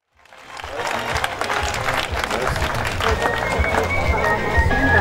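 Residents applaud to welcome Mamikon Aslanyan and his team at a neighbourhood gathering; dense crowd clapping rises quickly and stays loud and steady, with voices mixed in.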